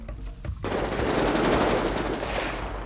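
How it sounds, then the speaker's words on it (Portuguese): A gunfire exchange in GTA 5 roleplay during a police raid on a favela: after a few sparse shots, a dense, loud burst of rapid automatic fire sustains for over two seconds. "Tá na trocação de tiro."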